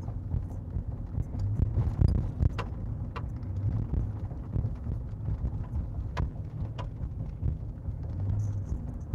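Steady low rumble of a car driving, heard from inside the cabin, with a continuous road hum and scattered faint clicks and rattles at a quiet, even level.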